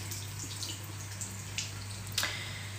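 Water from a tap runs steadily into a sink while skin is rinsed, a continuous close hiss with a few small splashes and drips, with no talking.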